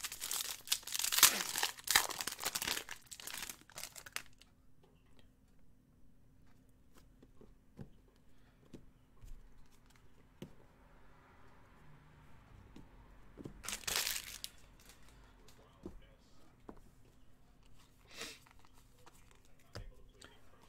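A Panini Vertex football card pack is torn open and its foil crinkled, with loud bursts of ripping and crumpling at the start and again midway, sparse rustles and clicks between, and a voice talking at times.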